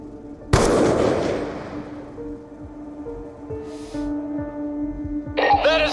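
A single loud gunshot rings out in Call of Duty Black Ops 2, its blast decaying over a couple of seconds before a tonal game score and a brief voice take over.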